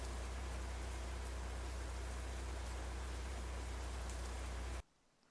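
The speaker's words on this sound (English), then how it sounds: "That or some heavy rain." Heavy storm rain pours during a chase, a steady loud wash of drops on the surface and vehicle that roars continuously for nearly five seconds, then cuts off abruptly into quiet.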